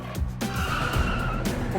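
A car braking hard on a test track, tires skidding in a sustained squeal over engine rumble with a few thumps, loud and close, with no talking.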